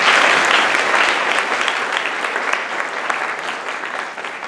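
An indoor audience at a college event gives the theater department a round of applause, dense steady clapping that starts loud close by and gradually thins and fades toward the end.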